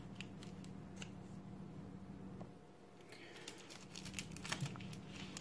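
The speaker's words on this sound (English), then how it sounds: "what I found works best is just simply using scissors" Rapid, soft snipping of scissors cutting material, a steady run of small crisp clicks close by, busier toward the end.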